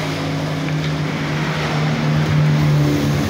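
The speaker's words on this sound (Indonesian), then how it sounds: "Oke, sekarang saya hidupkan ya motornya." A Yamaha Force FI or Jupiter Z1 motorcycle engine idles steadily and close by, a low continuous drone that holds for several seconds with no pause.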